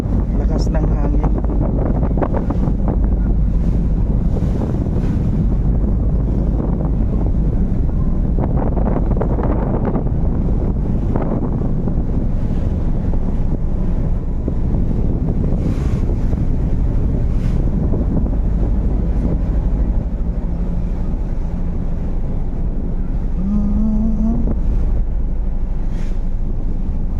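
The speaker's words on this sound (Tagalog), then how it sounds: "Lakas ng hangin." Strong wind buffets the microphone on a passenger boat out on open water, a loud roaring rumble with gusting surges and splashing waves, while voices talk intermittently over it.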